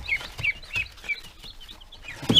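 Scared Khaki Campbell ducklings and baby chicks peep and cheep in quick, repeated bursts at close range, with soft handling thumps and a louder flurry of movement at the end.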